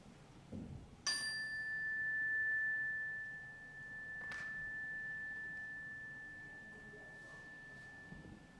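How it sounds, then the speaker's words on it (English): A single chime is struck once and then rings out as a clear, sustained pure tone that fades slowly over several seconds, heard alone in a quiet room at a Sunday service. "listen to the sound of the chime"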